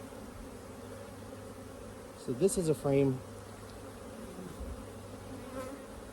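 Honeybees drone in a steady, low hum around an open hive during an inspection, a dense buzz running under the whole stretch while a person speaks briefly near the middle.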